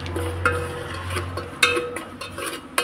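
Coriander powder stirred in a hot pan for Kerala-style chicken biryani, giving a low sizzle under a few clear scraping and tapping strokes of the spoon against the pan.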